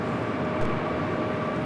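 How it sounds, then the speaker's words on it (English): A Japan Airlines Airbus A350-1000 takes off from runway 25 right at LAX, heard as a steady, broad, distant jet roar at low level. "the Japan Airlines A350 1000 taking off"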